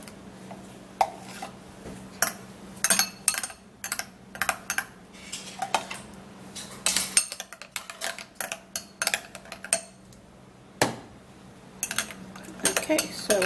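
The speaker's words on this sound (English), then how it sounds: "now I'm gonna be grabbing a bowl." Ceramic bowl being grabbed and handled in a home kitchen while preparing a banana and egg mixture, with a busy run of sharp clinks, taps and knocks, close and fairly loud.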